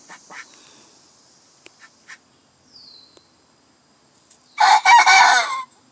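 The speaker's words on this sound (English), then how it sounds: "Get a crow for us, Hank." A rooster crows once loud and close near the end, after a quieter stretch with faint clucks and small knocks from other fowl.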